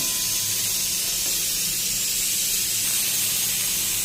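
Steam hisses steadily as the lid comes off a pan of Bengali pui shak (Malabar spinach) chorchori, a loud, even broadband rush that holds for several seconds with no talk.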